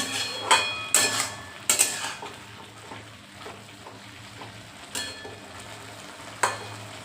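Boiled sweet pumpkin and chickpeas cooking in a pan on high heat, with a low steady simmering sizzle punctuated by sharp spatula knocks against the pan every second or so, no speech.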